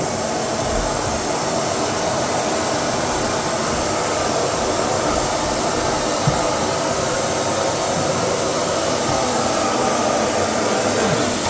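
A vacuum cleaner runs continuously during end-of-tenancy cleaning of a sink and toilet, a loud, steady, airy motor hiss and whir that holds level throughout with no talking.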